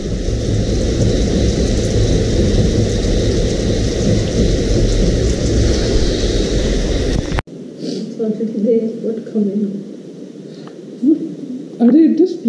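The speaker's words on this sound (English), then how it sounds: "and it's raining outside." Heavy, steady rain pours with a low rumbling roar in Goa, then cuts to a quieter stretch where faint voices murmur over softer dripping.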